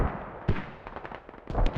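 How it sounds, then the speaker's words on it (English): Enemy mortar rounds landing in the video game Squad, a few sharp distant thumps and cracks spread across a couple of seconds, fairly faint and alone without talk. "Enemy mortars."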